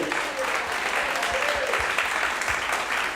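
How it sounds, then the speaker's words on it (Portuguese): A church congregation claps steadily in sustained applause during a Sunday service, a dense, even patter filling the space throughout. "Aplaude o Rei."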